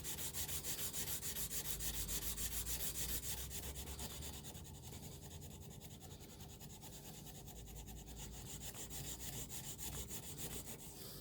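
A chef knife blade is hand sanded along its plunge line in a steady, close back-and-forth rubbing rhythm of scratchy strokes, slowing briefly in the middle before picking up again.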